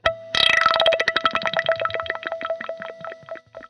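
A single plucked guitar note through a time effect with effect level full and high feedback and tone bursts into rapidly repeating echoes that gradually thin and fade, with a sustained tone ringing underneath.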